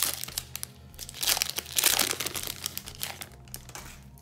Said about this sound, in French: on a quelques boosters à se déballer